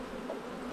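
Honey bees buzz steadily around an opened hive being checked for winter readiness, a dense, continuous close hum with no voices over it.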